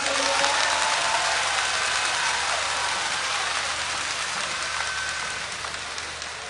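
An audience at a pro-democracy rally on Aksa Road claps to welcome a speaker, a dense, steady wash of applause that slowly tapers off.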